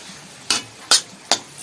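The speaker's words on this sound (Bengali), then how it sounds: "এবারে ভালো করে ভাজা ভাজা করে নিতে হবে সব কিছু দিয়ে" Three quick scraping strokes of a spatula across a pan at steady intervals, with low sizzling between them as water spinach, shrimp and potatoes fry on high flame.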